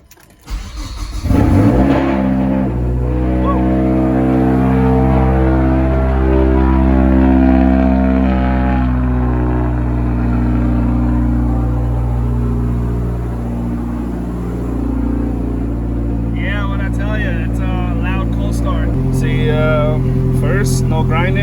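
A Mazdaspeed 3 fitted with a new exhaust manifold starts and idles loudly, a steady deep engine drone running throughout with slight rises, while people talk over it.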